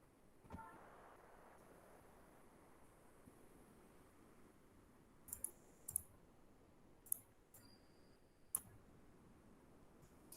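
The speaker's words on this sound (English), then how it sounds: "once this kind of cross gets visible to you, just have a double click" Computer mouse clicks while working in an Excel spreadsheet: several faint, close, crisp clicks, some in quick pairs, over quiet room hiss with no speech.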